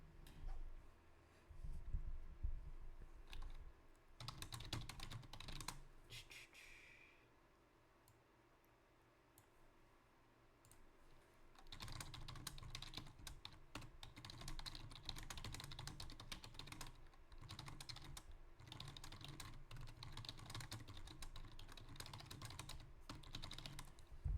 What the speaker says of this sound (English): So, real quick here, have some keyboard ASMR.